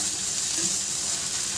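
Onion and ginger-chilli paste fry in a pan for bread vada, giving a steady, close, even sizzling hiss that runs unbroken throughout.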